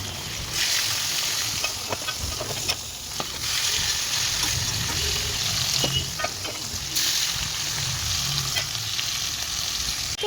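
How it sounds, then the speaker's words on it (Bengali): Pointed gourd and potatoes sizzle steadily in a hot pan while being sautéed, a continuous crackling fry broken by the scrape and clatter of stirring, with no voices. "এই যে আমি এখানে রান্না বসিয়েছি, পটল আলু এখানে কষাচ্ছি"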